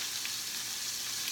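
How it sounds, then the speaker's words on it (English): Calamari frying in about two tablespoons of duck fat in a pan, a steady bright sizzle and crackle that runs evenly throughout with no talking. "Listen to them sizzle, sizzle."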